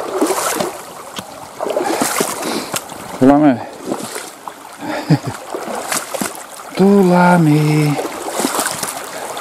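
A person wades across a forest stream, with water splashing and sloshing around the legs at close range in uneven bursts; someone speaks briefly and a dog whines during the crossing.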